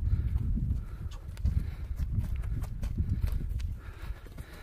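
A horse in a rural village in Jalal-Abad region, Kyrgyzstan, walks with soft, irregular hoof thuds and clops on open ground, close by, with faint outdoor background and no clear speech.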